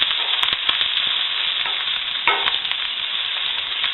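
A meat mixture frying in a number 5 Lodge cast iron pan, giving a constant close sizzle with occasional popping crackles and soft stirring scrapes.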